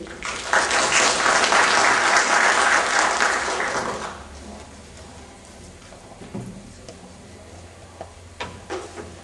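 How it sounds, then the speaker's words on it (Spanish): Loud applause from a crowd for about four seconds, then fading to scattered claps and quiet room noise. "Por favor, un fuerte aplauso"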